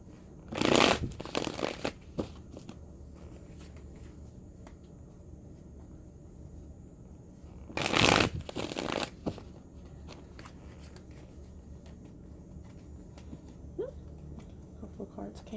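Tarot cards being shuffled during a reading: two brief bursts of riffling and flicking cards, about a second each and several seconds apart, with a quiet background between them.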